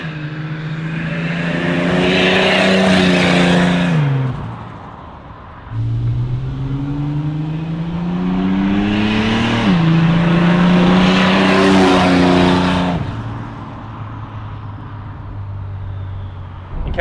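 A turbocharged Ford Fairlane with an SOHC engine and straight-out exhaust drones loudly up close, rising in pitch through two long pulls with a brief dip between, then settling into a steadier rumble.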